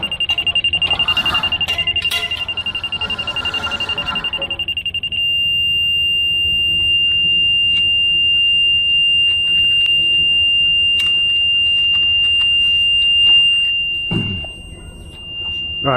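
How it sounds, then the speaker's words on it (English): A laser level receiver sounds a continuous, solid high beep at close range when it sits right on the beam, then the tone drops much fainter and carries on steadily under background shuffling and knocks. "Then when it's right on, it beeps solid."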